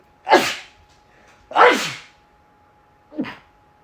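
Three sneezes in a row, each a sharp, explosive burst close by, the last one shorter and softer, with quiet pauses between.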